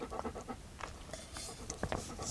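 Quick, breathy dog panting close by, with soft rustling and scuffling sounds around it outdoors on an ice-fishing trip on the Volga in strong wind.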